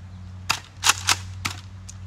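A Nerf blaster firing foam darts, four or five sharp, separate pops spaced irregularly over a couple of seconds, fairly close over a low steady hum.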